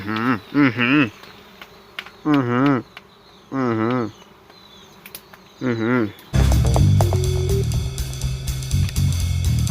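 Wild honey bees buzz at a nest in a kaffir lime tree behind a house. Loud close buzzing comes in short wavering bursts, then turns into a steady, dense hum.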